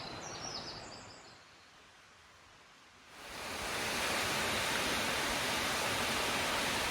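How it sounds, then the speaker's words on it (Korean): Ssangyong Falls in Seoraksan National Park, fed from the Bongjeonggol valley: quiet at first, then a loud, steady rushing roar of falling water swells in midway and holds to the end. "쌍용폭포입니다."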